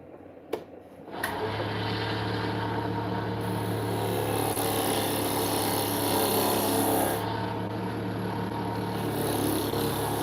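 A power sander works black limba wood in a steady, loud, abrasive whir that starts after a couple of clicks and continues without pause, shifting slightly in tone partway through.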